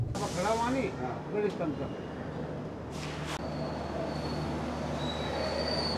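Falaknuma Express train arriving at Visakhapatnam Junction, with a loud steady rumble, high metallic wheel squeals rising over it and brief screeches, heard from inside the carriage while a voice speaks briefly near the start.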